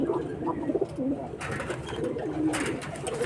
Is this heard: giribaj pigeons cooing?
yes